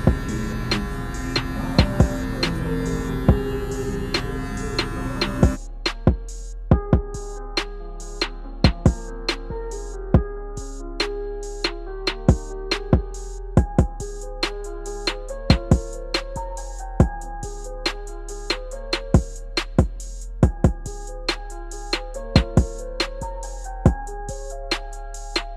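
Electric hair clippers fitted with a number-one guard, lever open, buzz steadily while fading hair at home, a constant close hum with small sharp clicks and snips scattered throughout.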